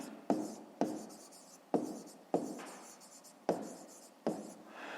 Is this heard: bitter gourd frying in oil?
no